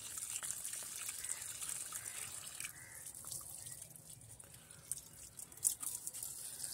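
Water pours onto garden plants such as an eggplant and a hibiscus in the afternoon, a faint, steady trickle and splash with a brief louder spurt near the end.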